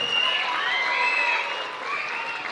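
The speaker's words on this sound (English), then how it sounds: "They deserve a round of applause," A concert audience at a high school children's concert applauds percussion players, a dense, steady wash of clapping and crowd noise that holds evenly throughout.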